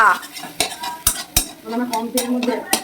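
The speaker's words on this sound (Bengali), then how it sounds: "এই যে করে নিচ্ছি ডিমের ভুজিয়া" Egg being scrambled in a pan for chow mein, with sharp metal clanks of a spatula against the pan and soft stirring scrapes in between, close and fairly loud.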